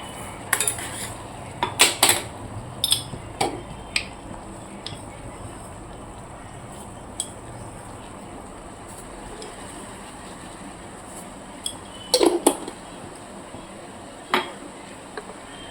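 Pots, pans and metal utensils clink and clatter in bursts while ginger tea is made in a home kitchen in the morning, with sharp knocks early on, a quiet stretch, then another cluster of clinks near the end.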